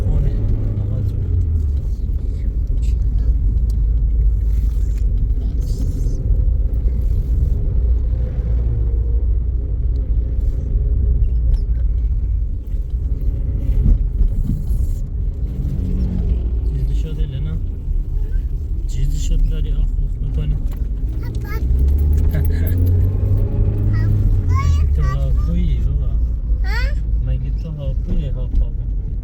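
A car driving along a road, its engine drone and low road rumble steady throughout, with people talking over it inside the car.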